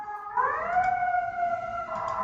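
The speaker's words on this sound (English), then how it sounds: "Someone's got a siren." An emergency vehicle siren wails in the background, its rising and steady tone carried from a distance across the whole stretch with no talk over it.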